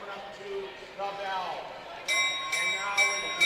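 At a long track speed skating championship, a bell rings for the bell lap, sounding as several bright, resonant strikes. They ring out clearly over commentary and crowd noise in a large arena.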